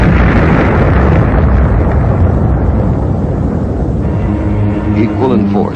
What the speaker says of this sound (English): Trailing streams of fire, it broke into our atmosphere, and then came the explosion.